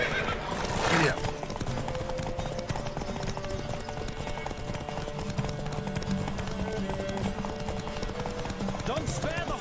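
A horse neighs and gallops in a race in the video game The Witcher 3, a sharp whinny up front followed by steady clip-clop hoofbeats under music, with voices calling out.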